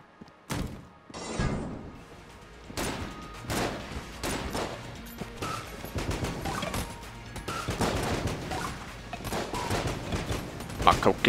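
Coconut gun shots in Enter the Gungeon, a string of punchy thumps and bursts spread across the stretch, mixed with game effects and occasional talk.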